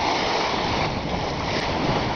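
Ocean waves washing around a sailboat on a solo circumnavigation, moderate seas with small whitecaps, heard as a continuous rushing wash mixed with wind noise and no voices.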